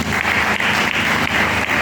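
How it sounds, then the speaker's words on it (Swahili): A church congregation applauds together, a loud, steady wash of clapping that swells in rhythmic pulses and continues throughout without talk. "Chalie Bwana makofi mazuri."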